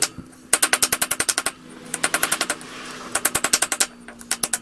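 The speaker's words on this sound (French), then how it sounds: "pour défaire les quelques centimètres qui restaient, j'ai tapoté dessus avec un marteau" A hammer taps bearings out of an electric Wolf lawnmower. The rapid, sharp metallic blows come in three fast bursts of about a dozen strikes each, close and loud, with brief pauses between.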